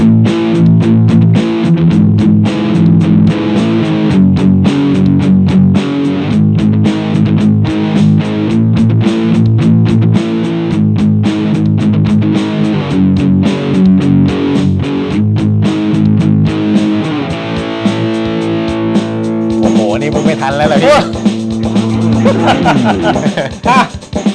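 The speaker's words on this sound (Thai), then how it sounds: "ประมาณนี้นะครับสำหรับซาวของทั้ง Clean Overdrive แล้วก็ Distortion ของเจ้า Mighty Light BT ตัวนี้นะครับ" Electric guitar played through a NUX Mighty Lite BT portable amp with overdrive and distortion, heavy sustained chords and riffs filling the whole stretch, loud and continuous, with a brighter, changing passage near the end.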